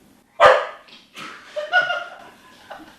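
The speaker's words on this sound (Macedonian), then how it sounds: "Кучето! Кучето!" A dog barks on an outdoor film set, one sharp loud bark followed by a few lighter yips and whines, with a bit of laughter and chatter mixed in nearby.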